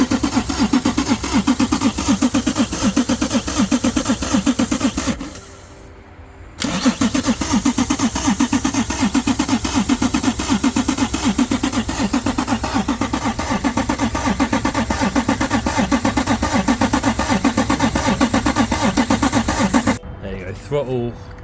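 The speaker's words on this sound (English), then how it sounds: "Go on then, crank it." A TVR Tuscan engine being cranked after 14 years in storage, the starter churning loudly and rhythmically in long spells with a short pause between, as people talk over it.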